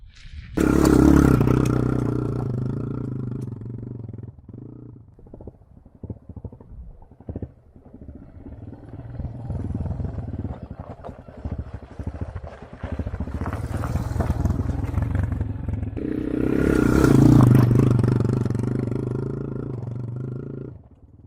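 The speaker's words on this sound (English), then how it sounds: "I'm going to try to see if I can show you what it looks like as I go down in first gear." A Yamaha AG200 trail motorcycle descends a steep technical hill in first gear, its engine roaring loudly at the start and again near the end, with a lower steady drone and some clattering between.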